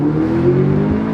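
A 300-horsepower all-wheel-drive car that reaches 100 in 4.9 seconds accelerates hard, its engine note loud and close, climbing in pitch over a short burst.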